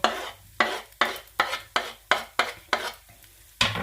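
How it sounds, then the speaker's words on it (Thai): Chili paste stir-fried with pork and sliced shiitake mushrooms over high heat, a close series of about nine rhythmic scraping, sizzling strokes of a spatula in the pan, each stroke fading quickly, with no talking. "ตอนนี้เร่งไฟเลยค่ะ เปิดไฟเบอร์หกแล้วก็ผัดไปนะคะ"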